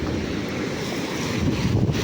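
High ocean waves surge and wash at sea, a steady roaring rush mixed with heavy wind buffeting the microphone, swelling slightly louder toward the end.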